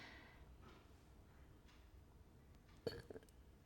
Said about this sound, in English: I was burping, so sorry.